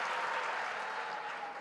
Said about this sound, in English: I would really want to ask you to give a round of applause for everyone who came in here